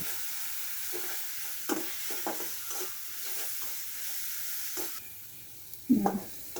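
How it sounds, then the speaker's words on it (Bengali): Ground chili, turmeric, coriander and cumin fry in a pan with a low, steady sizzle. Repeated scraping strokes of a stirring spoon come close, and a louder clatter sounds near the end. Nobody speaks. "এখন মশলাগুলি একটু কষিয়ে নেব।"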